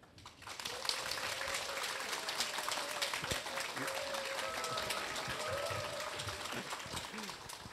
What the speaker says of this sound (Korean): 인사하실 때마다 크게 박수 부탁드리겠습니다.